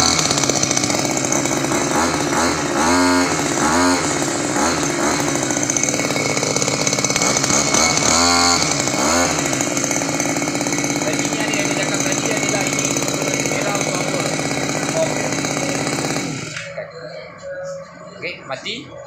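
A premium brush cutter grass trimmer engine runs loud and close with a buzzing two-stroke whine, revving up in a few pulses before dying away at the end.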